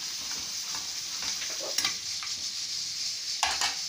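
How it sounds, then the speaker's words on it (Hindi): Chopped garlic frying in a mix of butter and oil while making sarson ka saag, a steady close sizzle with light stirring scrapes and a couple of louder clatters. "लहसुन डालेंगे और इसको ब्राउन होने तक हमने फ्राई करना"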